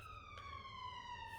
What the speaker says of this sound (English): Sorry about the ambulance, I'm really close to the road here with my flat.